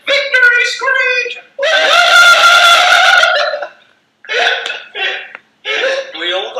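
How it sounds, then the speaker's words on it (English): A band member lets out a shrill, warbling victory screech, several bursts of high-pitched vocalising with a longer sustained cry in the middle, loud and close. "Victory screech."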